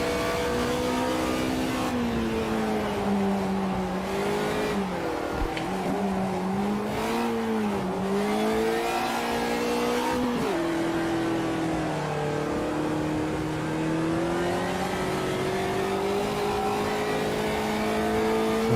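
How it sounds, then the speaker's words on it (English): Race car wheelspinning and sliding sideways at Bathurst in Automobilista 2, a loud, continuous engine drone with wavering pitch and hissing tyre scrub, persisting close and steady for the whole stretch. "Even going sideways, just wheel spinning constantly, still not getting any kind of warmth in these tyres."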